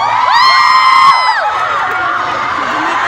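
A concert crowd in Dubai cheers and screams, high voices rising in wavering whoops that swell at the start. The cheering then settles into a steady roar of noise.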